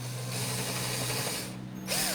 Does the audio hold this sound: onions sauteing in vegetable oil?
no